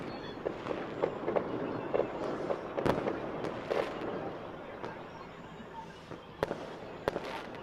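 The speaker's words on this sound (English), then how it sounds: "Why do I like fireworks?" Fireworks for a Fourth of July celebration burst repeatedly at a distance, sharp cracks and pops scattered irregularly over a low crackling background, some louder bangs standing out.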